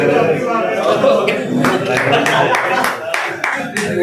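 Audience applause at a school retirement ceremony: a crowd of hands clapping in steady, dense bursts that build after the first second and continue under talk and background chatter.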